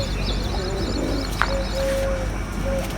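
Pigeons cooing inside a loft, a few soft low coos with a bird chirp and a brief clatter over steady background noise.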